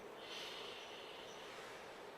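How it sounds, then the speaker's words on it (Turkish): A person drawing air in through the nose in a slow, long nasal breath, a steady airy rushing sound heard close up with no talking. "Bir burun solunumu örneği vereyim."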